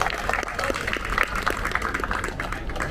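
Applause from the guests at a surprise birthday party, a dense steady clapping lasting the whole stretch at close range, with crowd murmur mixed in.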